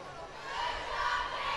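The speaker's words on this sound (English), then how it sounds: "quick cheer, congratulating the James Madison Dukes on a strong finish." A swim team gathered poolside at a collegiate swimming meet gives a brief group cheer, a burst of shouting voices rising over crowd noise in an echoing natatorium.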